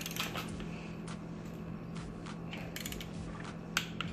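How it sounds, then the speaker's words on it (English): Torque wrench ratcheting down bolts on a Honda B18B1 engine rebuild for a DC2 Integra, giving a series of quick clicking ratchet bursts at close range over a steady hum, with no talking. "So let me get this torqued down"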